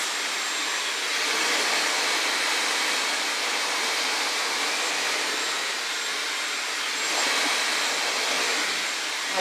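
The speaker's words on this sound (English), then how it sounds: "Pull it right up from the root and try to dry it at those roots." A Dyson Airwrap blows air at the roots of long hair, a loud, steady high-pitched rushing whoosh that swells slightly a couple of times, with no talking.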